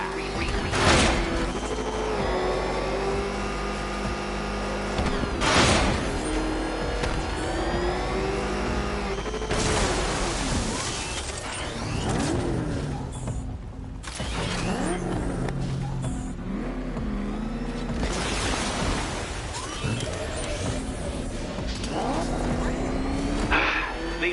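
A Batmobile engine in a Batman video game drives and revs with a mid-pitched roar that rises and falls across the run, with a few sharp bursts. Game dialogue and music play over it at times.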